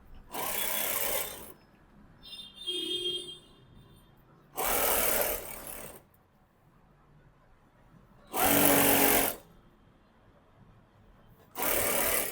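Sewing machine running in four separate bursts of about a second or two each while edge-stitching a pair of straight-cut pants, with quiet pauses between runs and a small clink of handling.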